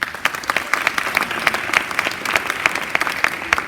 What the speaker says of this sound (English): So I want to give them a round of applause as well.